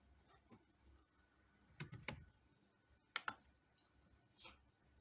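Keys tapped on a computer keyboard during data entry in statistics software, a few scattered clicks then two short bursts of typing, quiet and close in a still room.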